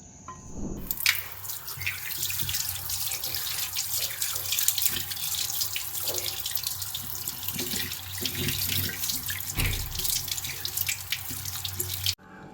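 Tap water runs steadily into a sink while bangude mackerel is washed for a Kerala-style fish curry, with faint clinks and splashes of handling, no talk.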